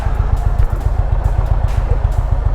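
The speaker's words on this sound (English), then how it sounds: "I'm gonna back this bike up a little hill." An Indian Chieftain air-cooled bagger motorcycle rumbles as it is backed slowly up a small hill, its engine giving a steady, loud, close low-pitched throb with a regular pulsing beat and faint clatter.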